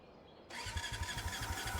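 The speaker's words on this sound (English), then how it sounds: "Let's give that engine a spin." An engine in the video game Brassheart starts up with a sudden loud catch after a brief quiet lead-in, then settles into a steady, rhythmic chugging pulse with a rough mechanical roar.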